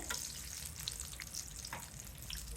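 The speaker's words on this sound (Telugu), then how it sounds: "వేగిన ఇవన్నీ ఫ్లిప్ చేసుకోండి చూడండి వేగినాయి కదా" Ridge gourd bajji fritters frying in hot oil, a soft steady crackle and bubbling with faint clinks as pieces are flipped, fairly quiet throughout.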